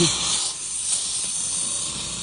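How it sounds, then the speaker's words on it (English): An air compressor hisses steadily and close up, a continuous rush of air with no talking. "as soon as I turn that on, you can hear the compressor engage"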